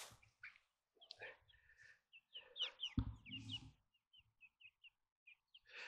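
Chickens cluck and chirp while pecking at bananas, pears, apples, grapes, parsnips and spinach, giving scattered short calls near and fairly quiet, with one louder squawk midway and gaps of silence.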